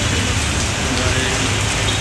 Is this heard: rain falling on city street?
yes